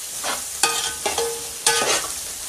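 Egg frying beside other ingredients in a pan as it is stirred: a steady close sizzle broken by repeated scraping strokes of a utensil against the metal, with no talking.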